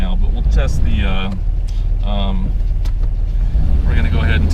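A 1989 Toyota FJ62 Land Cruiser on the move gives off a steady, loud low engine rumble and road noise from inside the cabin, with someone talking over it throughout.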